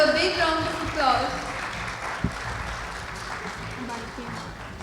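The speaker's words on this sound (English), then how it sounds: "Ladies and gentlemen, please have a big round of applause." An audience at a government cheque-distribution ceremony for persons with disabilities in Sindh applauds steadily. The applause is moderately loud and continues under a speaker's amplified voice at the start.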